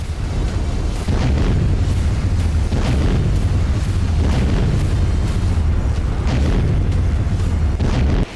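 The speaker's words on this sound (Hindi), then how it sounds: "एक ही प्रहार से 10 बमों जैसा विस्फोट।" A barrage of heavy, booming blasts, one after another, with deep rumbling low end and crackling bursts layered throughout, loud and continuous.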